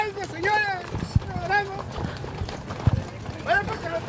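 Horses' hooves clop in a scattered, irregular rhythm on a cavalcade parade route in Mazatlán, with a couple of sharp nearby strikes under steady conversation among riders and onlookers.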